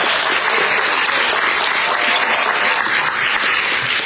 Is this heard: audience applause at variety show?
yes